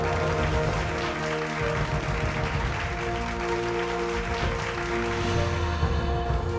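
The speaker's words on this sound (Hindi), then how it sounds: "रत्नाकर कुमार जी के लिए जोरदार तालियां" Audience applause at a Bhojpuri music awards ceremony as an honoree is called up, steady crowd clapping under sustained music with tonal bands running throughout.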